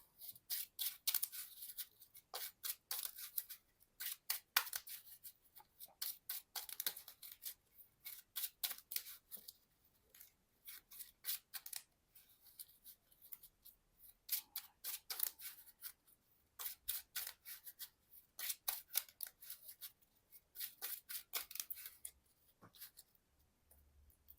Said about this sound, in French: Et du coup, moi, je remélange mon deck aussi.